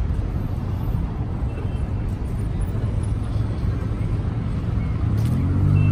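A Yamaha MT-07 motorcycle ride, with a steady low engine drone and road rumble holding throughout and rising slightly near the end.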